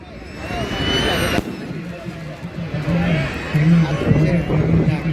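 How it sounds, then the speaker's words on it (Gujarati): Fireworks crackle and pop amid a noisy outdoor crowd at a Dussehra Ravan Dahan celebration in Bhavnagar, with a sharp burst early on and a steady din of chatter throughout. "આતિશબાજી માટે ફટાકડા લાવેલા છે અને આ રીતના ફોડતા હોય છે"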